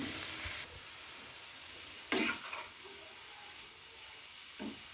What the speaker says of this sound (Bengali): এবার লবণ দিয়ে দেব, হলুদ দিয়ে দেব, মাখিয়ে নেব।